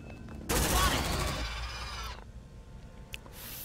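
Gunfire in the sci-fi video game Aliens: Dark Descent, a dense, loud burst of rapid automatic fire lasting over a second and then fading into a low rumble, followed by a faint sharp click.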